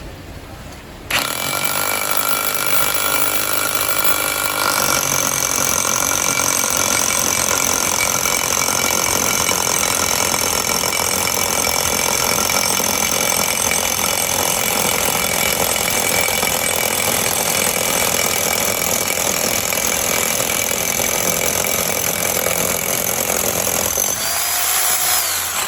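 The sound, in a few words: power drill boring holes in a wall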